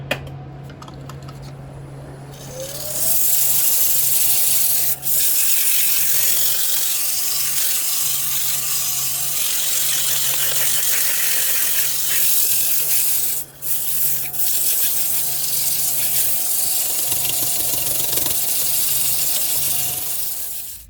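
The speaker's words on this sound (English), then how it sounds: "So I'm going to start sanding." Sandpaper rubs steadily against a spinning crabapple wood bird's mouth vase on a lathe, a continuous close hiss with a faint motor hum underneath and a couple of brief pauses, no talking.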